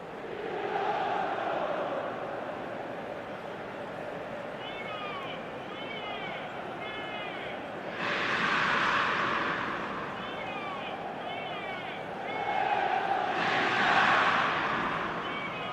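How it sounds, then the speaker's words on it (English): A stadium crowd reacts in eFootball 2025 during the Milan derby between Inter Milan and AC Milan. The cheering swells in two loud rises under steady match commentary. "at least the crowd are appreciative of his efforts"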